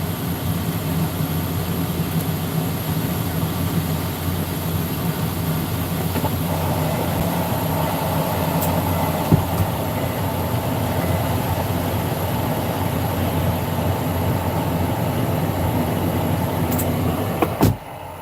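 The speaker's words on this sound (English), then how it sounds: "You're just gonna have to deal with the fan noise" Steady broadband whir of a fan running continuously, loud and close, with a constant low rumble and no talking.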